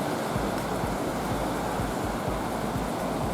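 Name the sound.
ocean waves breaking on beach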